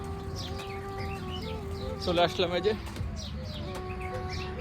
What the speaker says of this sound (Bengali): চতুর্দিকে পাখি কিসিমিসি ডাকতেছে